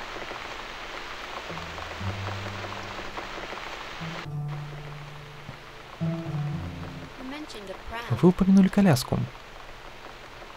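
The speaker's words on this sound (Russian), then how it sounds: "А дождь не кончается." Steady rain patters across a surface throughout in the video game The Cat Lady, with a voice speaking over it and a brief burst of louder sound near the end.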